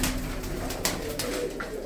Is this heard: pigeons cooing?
yes